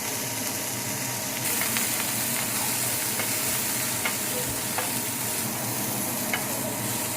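Fish fillet with lemon juice being stirred in a hot pan, giving a steady broadband sizzle with faint scraping stir strokes, close and continuous, no voices.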